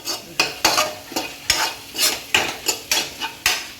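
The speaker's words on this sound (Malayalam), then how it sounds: "വഴറ്റി കൊടുക്കാം" A spoon repeatedly stirs and scrapes fish masala frying in a pan, with rhythmic strokes about every half second over a continuous close sizzle.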